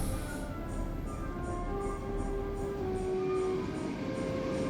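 Steady low rumble of a Moscow Metro train in motion, with a faint rising whine and rhythmic rattling, continuous and fairly close.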